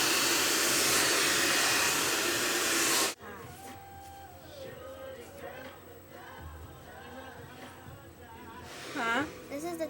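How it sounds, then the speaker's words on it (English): A loud blow dryer roars while drying hair during a relaxer treatment, then cuts off abruptly after about three seconds, leaving quieter room sound with voices talking. "What, the blow dryer?"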